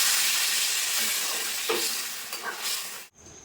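Water hits a hot pan of potato and soybean curry, raising a steady loud sizzle and hiss that slowly fades while the mixture is stirred, then cuts off abruptly near the end.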